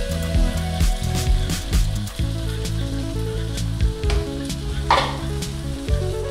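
Yogurt and cashew paste hitting frying masala in a pan, giving a loud, steady sizzle with stirring scrapes throughout, the busy crackle holding for several seconds with no voices.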